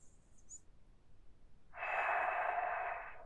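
A single sharp, loud breath drawn through the nose during a yoga stretch for tense shoulders, lasting just over a second after a quiet pause, close and alone.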